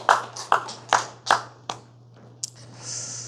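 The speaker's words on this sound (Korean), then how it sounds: "우리 하나님께 영광의 박수 올려드리겠습니다" A church congregation claps together in about five loud, evenly spaced beats that trail off into a few scattered claps, with no talking.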